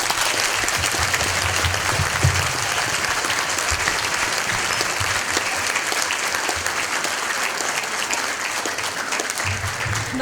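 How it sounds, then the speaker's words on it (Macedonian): An audience applauds the teachers at a Skopje primary school's 70th-anniversary celebration, with dense, steady clapping that fills the hall and keeps going without a break. "Аплауз за нашите наставнички од оделенска настава"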